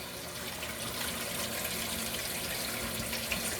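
Water pours steadily through a Tower Garden hydroponic tower, a continuous close splashing trickle like a running tap that holds an even level throughout with no talk over it.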